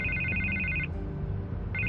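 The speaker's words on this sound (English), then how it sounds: "I can't get the phone to stop ringing." A telephone rings in the Batman Telltale video game, two electronic ring bursts separated by a pause over a low background hum.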